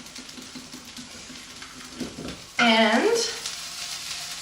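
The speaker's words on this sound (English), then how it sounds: "my broccoli is very sizzling" Broccoli sizzling in a hot skillet for a buffalo ranch breakfast dish, a steady crackling fry under a brief spoken word, with a louder burst of sizzle partway through that eases back down.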